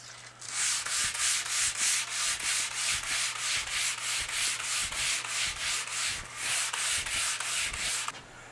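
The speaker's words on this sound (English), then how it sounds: "So I think I'm going to take this up to 150 grit" A wooden cutting board is hand-sanded with 150 grit sandpaper in quick, even back-and-forth strokes, a close rhythmic rasping that pauses briefly near the end, with no voices.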